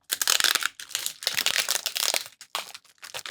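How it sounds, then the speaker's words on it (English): Crinkly plastic packaging bags are rustled, crumpled and pulled apart close up while parts for a handheld screen mod are unpacked, a busy run of crackling with brief pauses. "Now's the time to take everything out of its plastic bags."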